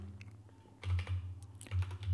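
Keys on a computer keyboard are tapped in a quick, faint burst of clicks over a steady low hum, with no voices.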